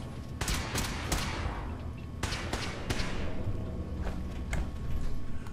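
Gunfire in Fallout 4 strikes a wall as a series of sharp, irregular shots at moderate distance, some in quick bursts, spread across the clip with a low background rumble.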